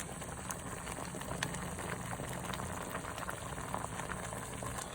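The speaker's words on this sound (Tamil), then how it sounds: "ரொம்ப நல்லா கொதிக்கிறது" A pot of tamarind stew (appalam kuzhambu) bubbles at a steady rolling boil, a dense, continuous burble with faint hiss, close and even throughout.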